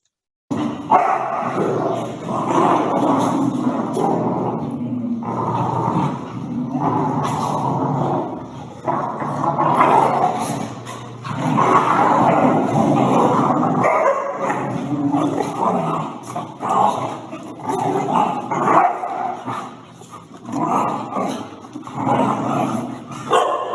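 Dogs bark, yip and growl loudly and continuously during overstimulated rough play, a close, noisy tangle of overlapping vocalizations with brief lulls.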